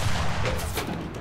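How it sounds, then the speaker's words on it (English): Aircraft machine guns fire from a T-28E or SU-2 plane in the video game Enlisted, a dense continuous rapid rattle of gunfire with booming low rumble, loud and close throughout the short burst. "Can literally use three machine guns at the same time."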